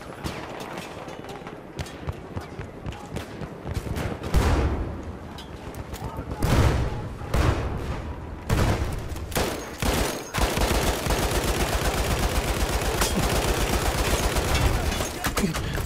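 Battlefield 1 gunfire with scattered shots and booming blasts giving way to a sustained rapid automatic burst near the end, loud and dense, with some voices faintly mixed in.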